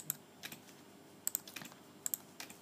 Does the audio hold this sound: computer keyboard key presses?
yes